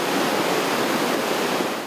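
The Nisqually River near Mount Rainier, swollen with snowmelt during a heat wave, rushes loudly close by as a dense, continuous roar of flowing water with no voices over it.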